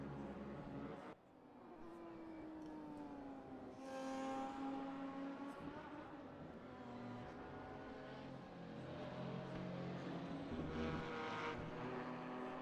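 Porsche GTR4 race car lapping Hockenheimring in a RaceRoom video game replay, its engine note holding a steady loud drone with rising and shifting pitch as it accelerates through the gears, no talking.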